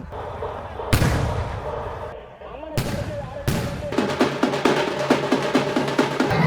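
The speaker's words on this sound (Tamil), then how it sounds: "பட்டாசு எல்லாம் ரெடி பண்ணி வச்சிருக்காங்க திருவிழாக்கு" A few loud, sharp bangs ring out, then a string of firecrackers crackles in rapid, repeated pops outdoors at a Gangai Amman temple festival in Vellore, India.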